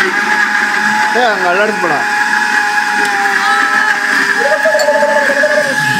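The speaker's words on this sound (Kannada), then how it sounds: "ಮಿಕ್ಸಿ ಸೌಂಡ್ ಏನಂತ ಗೊತ್ತಾ" A home mixer grinder runs with a steady loud whine while someone speaks briefly over it in a kitchen during panipuri preparation.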